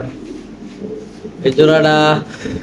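A Mookhee (Mosaic) pigeon coos in a short, throaty burst, close by, with people talking around it at a pigeon market.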